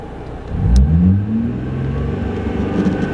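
A Holden car engine revs up with a rising whine via a throttle controller, then holds at a steady, elevated hum, close and fairly loud.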